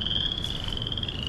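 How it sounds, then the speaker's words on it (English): Frogs croak in a steady chorus across a wet spring woodland area, a continuous dense calling with a sustained high trill running throughout, moderately loud and with no talking. "You can hear the frogs behind me."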